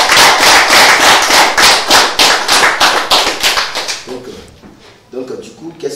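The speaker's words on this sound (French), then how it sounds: "Ça s'applaudit." An audience bursts into rhythmic, loud clapping at an awards-style talk event, hands beating in a steady pulse that fades after about four seconds, with a voice speaking at the end.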